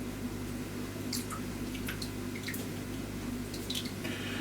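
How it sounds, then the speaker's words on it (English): A hot, soaked wool beret drips water and is gently squeezed, giving soft scattered drips and faint squishing over a steady low background hum, all fairly quiet. "just take it out, let it drip, try and squeeze it very carefully because it's going to be very hot"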